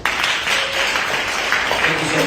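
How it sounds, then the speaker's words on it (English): An audience at a NUP convention in Boston breaks into applause, a dense, steady patter of many hands clapping filling the room, with faint voices mixed under it. "Let's give him a round of applause."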